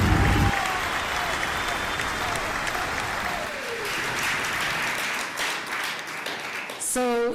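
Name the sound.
applause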